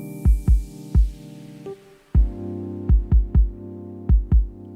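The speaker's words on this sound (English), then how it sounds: "Very chill chords." Mellow synth chords from a studio beat, sustained pads under sharp, decaying percussive stabs hitting in short clusters, with a brief gap midway before the groove resumes; no vocals.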